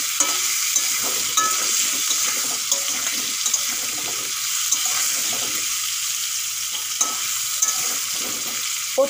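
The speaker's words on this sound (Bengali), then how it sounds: "পটলগুলো আমি ভালো করে ভেজে নেব।" Pointed gourd (potol) pieces frying in a hot pan with a little turmeric and salt, a continuous close sizzle broken by repeated clattering stirs and scrapes of a spatula, with no voices.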